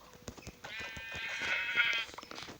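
A Minecraft sheep bleats once, a drawn-out wavering call that sits close and clear over light clicking game sounds.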